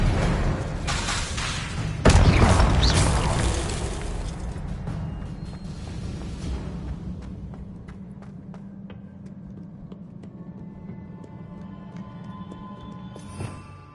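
A spell combat exchange in Hogwarts Legacy builds to one heavy explosive blast after a few sharp impacts, then fades into a long rumbling decay with faint scattered crackles.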